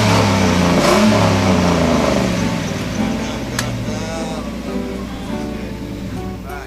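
A Ford Mustang with a straight-six engine revs loudly up close, its roar swelling and then slowly easing off into a lower rumble.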